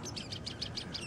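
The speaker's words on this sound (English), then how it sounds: "Got a little bit of bird action here." Small birds in snowy woods give a quick series of about seven bright, evenly spaced chirps over soft background noise, heard alone for about a second.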